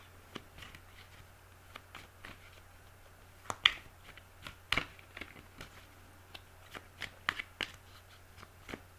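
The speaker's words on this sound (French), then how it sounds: "on va commencer avec un premier tirage avec le tarot de Marseille" Tarot de Marseille cards are shuffled by hand, producing a series of soft, irregular riffling snaps and taps close by in a quiet room.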